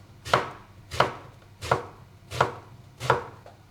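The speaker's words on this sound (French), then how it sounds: "je commence par faire des petites tranches comme ça. Et une fois que c'est fait, je recoupe dans l'autre sens" Five evenly spaced, crisp knife chops through eggplant on a cutting board, each a sharp thud cutting the vegetable into small cubes, close and with no voices.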